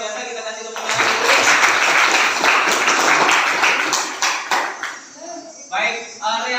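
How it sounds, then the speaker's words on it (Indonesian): Students in a school classroom break into loud applause that fills several seconds, then taper off into a few scattered claps, with a teacher's voice heard over it at the start and end. "kita kasih tepuk tangan dulu"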